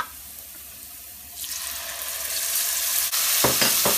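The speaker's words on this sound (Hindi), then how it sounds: "इसमें हम डाल देंगे टमाटर पेस्ट" Tomato paste goes into a pan of frying garlic, ginger and green chilies for chicken 65, starting as a quieter crackle before a sudden rise into loud, steady sizzling with clatter of stirring near the end, no voices.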